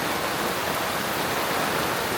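Heavy monsoon rain pours down steadily in a village, a dense continuous hiss with no breaks, loud and close, without any voices.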